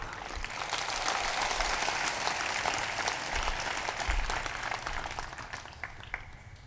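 An audience at a Kabir satsang breaks into sustained applause. Many hands clap in a dense, even roar that lasts throughout at moderate loudness.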